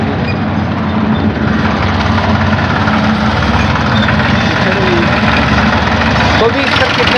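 A 2001-model tractor idling nearby in working condition, a loud, steady low rumble with continuous vibration and no change in pace.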